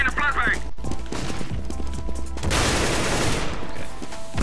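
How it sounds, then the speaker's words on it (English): A flashbang grenade in Counter-Strike on the Inferno map goes off as a sharp burst in the middle of a busy stretch of gunfire and game noise, with a few short clanks before it. "I am throwing a flashbang."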